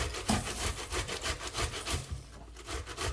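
Eggplant is grated on the rough side of a grater in quick, rhythmic rasping strokes, close and moderately loud, with no talking.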